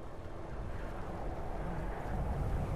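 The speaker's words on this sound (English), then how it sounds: "That wind is brutal, man." Steady, rushing wind blows across an open landscape in Skyrim near a stable, a continuous broadband roar that swells slightly toward the end with no voices over it.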